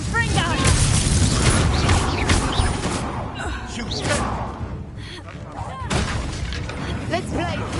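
A Confringo spell blast in Hogwarts Legacy: loud bursting explosions and shattering crashes packed into a busy combat mix, with a brief lull in the middle and voices speaking through parts of it.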